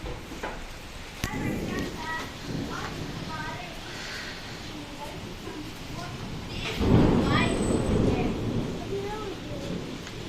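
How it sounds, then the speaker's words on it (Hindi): Thunder rumbles during a rainstorm in Qatar, with a heavy low roll swelling loudly midway over steady rain, while someone talks throughout. "बहुत ही आसमान गरज रहा है"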